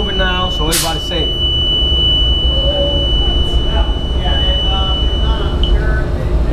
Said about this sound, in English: That beeping is telling you that it's moving now, so everybody's safe.